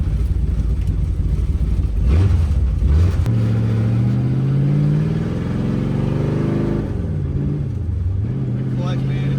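A Dodge Dart V8 with a four-speed manual pulling hard in first gear, its loud engine note rising and falling through several revs while someone talks over it.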